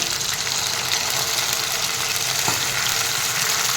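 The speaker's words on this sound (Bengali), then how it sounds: "এবার দিয়ে দিচ্ছি অল্প পরিমাণে জল।" Water hits a hot pan of khichdi with bay leaf, giving a loud steady close sizzle and hiss that carries on without a break.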